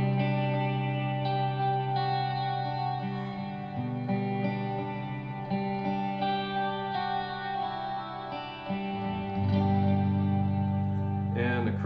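Crunch electric guitar tone through a Line 6 amp simulator with an FBV Shortboard MKII, held chords with mild grit and shimmer, changing a few times and ending with a fresh strum.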